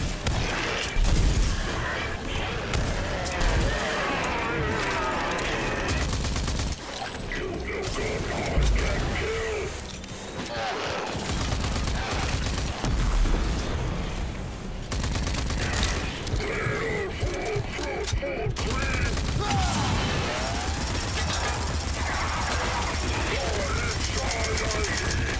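Rapid, dense gunfire and mechanical clatter from Rage 2 gameplay, loud and sustained over about twenty-five seconds with brief lulls, as a player talks over the action.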